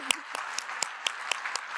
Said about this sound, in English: This is something to clap about